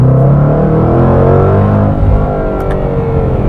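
Jaguar F-Pace SVR SUV with its exhaust flap open, a loud, deep, continuous engine and exhaust roar heard close up, steady throughout with no talking.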